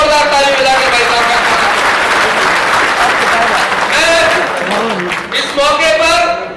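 A crowd at a political gathering in Rajasthan claps steadily and loudly throughout, with a voice speaking over the applause on a public address system.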